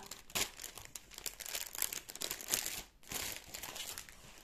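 Paper crinkles and rustles up close while a bag is being packed during an unboxing of cross-stitch and diamond painting supplies, in uneven bursts of crumpling with brief pauses.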